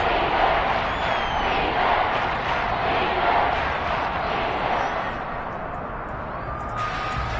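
Broad, sustained roar of a football stadium crowd building during a big third-down play, loud and continuous throughout with no clear words, easing slightly near the end.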